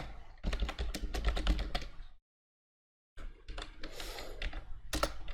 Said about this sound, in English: here we can just type hello world